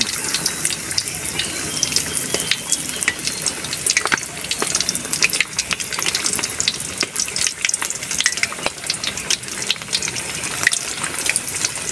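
Breaded hasa-hasa fish fries in hot oil, a busy crackling sizzle with sharp pops scattered throughout, steady and close.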